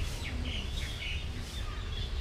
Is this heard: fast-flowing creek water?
no